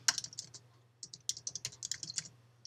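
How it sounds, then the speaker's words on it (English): Crisp keystrokes on a computer keyboard while working in Microsoft Word, a short burst of clicks, a pause, then a longer run of quick close taps over faint hum. "and then again if we type"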